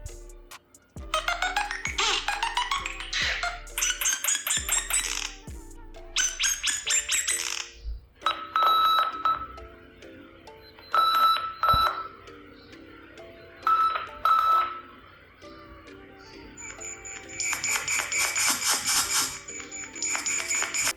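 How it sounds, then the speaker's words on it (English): Several short electronic glyph ringtones from a Nothing Phone (1) on Android 13 play one after another, each a bright melodic pattern separated by brief pauses, clear and close. "with Android 13 they have added a new set of custom glyph ringtones"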